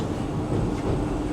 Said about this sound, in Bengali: মালদায় ঢুকে পড়েছে আমাদের ট্রেন।